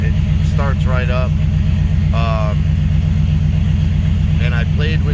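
A Chevrolet S10 truck engine idles a little rich just after starting, a steady close low rumble running throughout, with someone talking over it.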